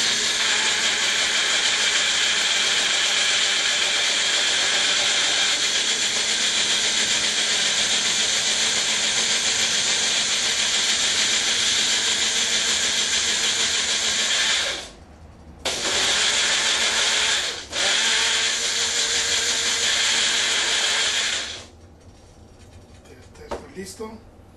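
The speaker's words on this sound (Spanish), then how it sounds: "Vamos a licuar esto entonces para comenzar el proceso de nuestra sopa para las tortas de queso" A blender whirs loudly and steadily as it purées garlic and onion for a shrimp patty soup, running continuously with two brief stops before cutting off near the end.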